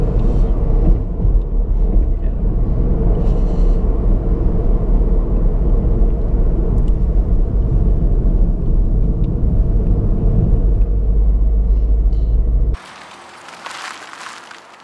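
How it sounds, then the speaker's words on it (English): Low, steady engine thrum of a 2018 Ford Fiesta Titanium with the 1.0 EcoBoost 125 three-cylinder, muted and refined, heard from inside over road rumble before cutting off abruptly near the end. "It is fairly muted because it's a refined car, but you can get that three-cylinder thrum,"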